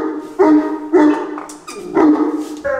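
Dogs barking close and loud, three or four repeated sharp barks with brief pauses between them and a whine near the end.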